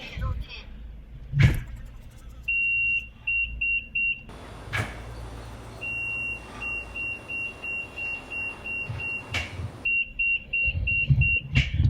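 A Proton Saga LMST in reverse gear sounds its reversing buzzer as a series of rapid, high-pitched electronic beeps in bursts of varying length. It plays close and clear, with a voice talking at times and some handling noise.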